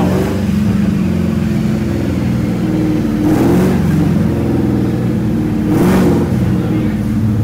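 A 2020 Ford Mustang fitted with a Cobra Jet intake runs on a dyno, its engine holding a loud, steady roar with two brief rising revs swelling partway through.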